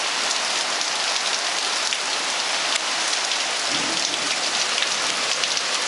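A downpour of heavy rain drums steadily and loudly on nearby surfaces, an unbroken hissing wash with a faint low rumble partway through and no talking.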